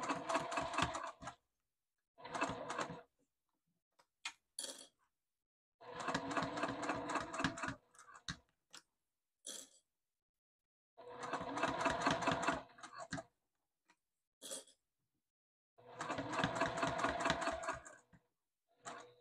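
Home sewing machine backstitching a wristlet, repeated bursts of rapid close mechanical stitching separated by quiet pauses and small clicks, with no talking.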